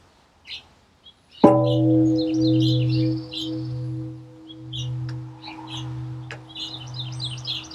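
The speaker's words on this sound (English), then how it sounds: "when it's struck with this wooden gong, it gives a beautiful tone" An aluminum beer keg struck once with a wooden striker like a gong in a garden, ringing with a long sustained tone that slowly pulses and fades, with bird chirps in the background.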